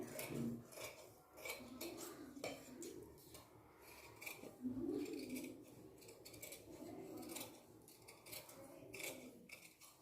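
Scissors cut blouse fabric for a katori blouse, giving quiet, close, repeated snips and scraping blade clicks at an uneven rhythm.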